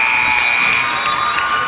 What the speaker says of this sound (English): And there is the final buzzer